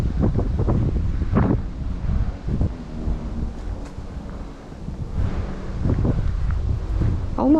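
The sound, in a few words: wind blowing at Apley Woods, Telford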